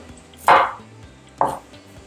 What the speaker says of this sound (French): Et je découpe mes oignons.